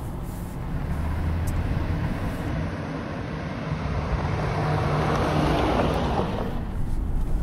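A Land Rover Defender 90 with air suspension set to off-road height driving up a trail, a steady engine rumble mixed with rough tyre and wind noise that grows slightly louder.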